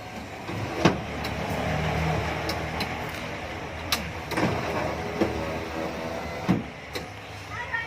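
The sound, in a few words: power window of a Matador vehicle operating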